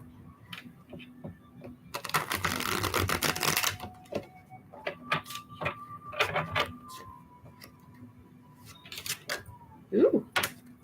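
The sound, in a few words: cards being shuffled for a reading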